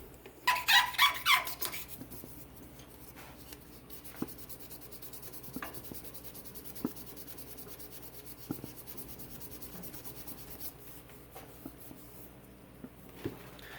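Fine-grit sandpaper rubs against a spinning cigar pen blank on a lathe, a soft steady scratching with a brief louder burst at the start and scattered light ticks throughout.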